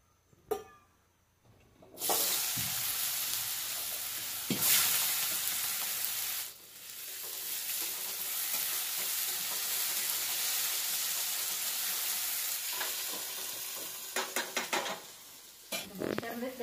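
Peanuts roasting in a pan, a steady dry sizzle and rattling stir running nearly throughout after a quiet start, with a few scraping clinks near the end.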